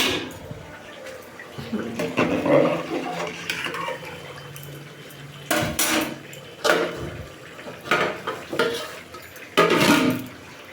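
Fried rice being stirred in a pot, with scattered scraping and clanking bursts of spoon against metal, fairly close, amid background kitchen noise and a voice in the room.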